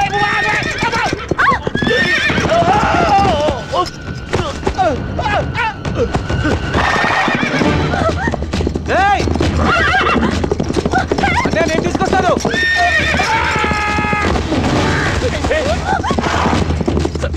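A horse neighs and its hooves clip-clop during a Telugu film scene. The sounds run under steady, loud dialogue and background music.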